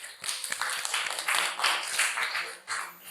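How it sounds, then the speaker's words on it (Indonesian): A classroom of high school students applauding after a group presentation, a steady ripple of many hands clapping at moderate loudness with a brief dip near the end. "Mari kita berikan aplaus."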